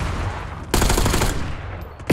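An Ames 85 assault rifle fires in Black Ops 6 multiplayer: loud, close, rapid automatic bursts. A dense, sustained volley cuts in after a quieter stretch, and a fresh burst starts at the very end.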